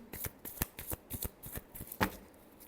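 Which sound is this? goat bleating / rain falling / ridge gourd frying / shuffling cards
shuffling cards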